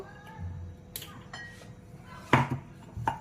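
A spoon stirs jaggery into warm milk in a pot for mishti doi, making a few quiet, scattered clinks and scrapes against the vessel with no voices.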